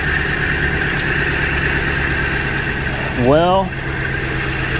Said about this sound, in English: she's misfiring real bad too.